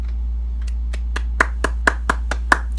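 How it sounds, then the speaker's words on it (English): About ten crisp, close handclaps from one person in a steady rhythm, spaced under a quarter second apart, over a low constant hum. "Round of applause"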